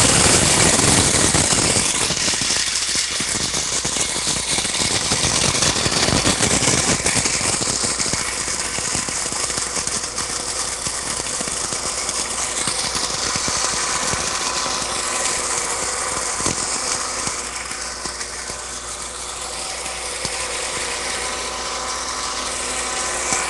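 Electric grain mill, a Wonder Mill, grinding grain into flour: a steady, loud motor whine with rattling runs unbroken and close throughout, with no voices over it.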